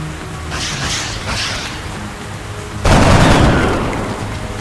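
Gunfire in an XCOM: Enemy Within cutscene: a soft, scattered crackle of shots, then a loud, dense burst of rapid fire that stays heavy and slowly tails off.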